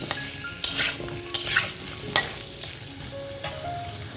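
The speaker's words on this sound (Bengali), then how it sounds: "নুন হলুদ দিয়ে কিছুক্ষণ সময় আমি এটাকে ভেজে নেব" Squash and potato pieces fry with salt and turmeric in a pan, giving a steady close sizzle broken by several sharp scrapes and clacks of a spoon stirring against the metal, with no talk.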